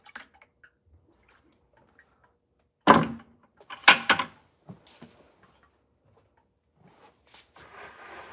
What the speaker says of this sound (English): Someone's knocking.